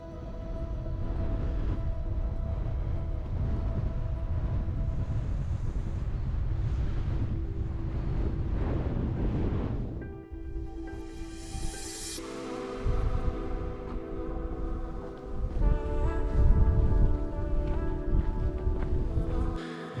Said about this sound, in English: Despite how windy it is today